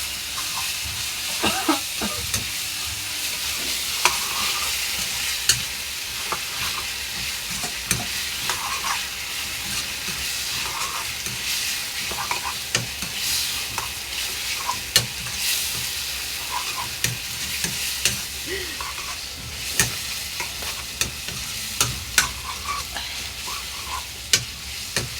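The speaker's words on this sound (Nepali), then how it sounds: "चिकन हाम्रो चाहिँ कढाईमा भइसक्यो। यसलाई चाहिँ समातेर यसलाई चाहिँ फ्राईको लागि" Chicken frying in a kadai while being stirred, a steady close sizzle and hiss with frequent scraping clicks of the spoon against the pan throughout.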